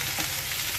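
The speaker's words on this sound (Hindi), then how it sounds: "बंद गोभी के साथ ही आप लोग शिमला मिर्च भी ऐड कर दें, मिक्स करेंगे" Cabbage and capsicum being stirred in a hot frying pan, a brief, close, steady sizzle and hiss with light scraping movement.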